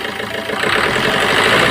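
Engine of a Maruti Suzuki car with a noise problem revving under a mechanic's check, a steady close mechanical drone that swells a little louder after the first half second and holds to the end.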